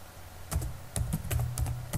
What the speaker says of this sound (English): we have to type the following command